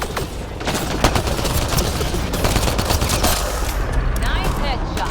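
Gunfire in Mass Effect Andromeda, rapid continuous shots and bursts that stay loud and close throughout the moment, with a voice speaking briefly under the shooting.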